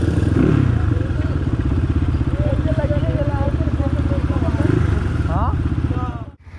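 A Honda CX250R motorcycle idles close by during a checkup. Its engine gives a steady, rapid pulsing thrum under chirpy background noise until it cuts off abruptly near the end.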